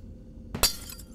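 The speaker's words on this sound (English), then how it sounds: "Oh my god, it broke the glass." Glass breaks in the horror game Garten of BanBan: after a quiet low hum, a single sharp shatter bursts out with bright tinkling fragments, brief and fairly close, then quickly dies away.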